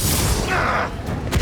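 Confringo fire spell from Hogwarts Legacy on Switch, a dense booming blast with a bright crackling burst in the middle of the clip, loud and close over steady game noise, a short hit near the end.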